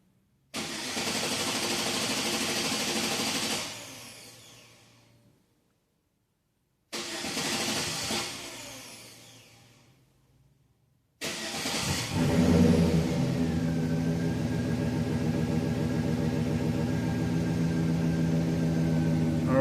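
A GM Chevy truck engine with a hard-start fault cranks in two long whirring attempts separated by pauses, then catches on the third and settles into a steady, close idle.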